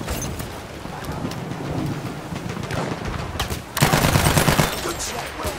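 Battlefield 1 gunfire rattles in dense, overlapping bursts during a Conquest match on Heligoland Bight, with a louder volley near the end and game announcer voices mixed in.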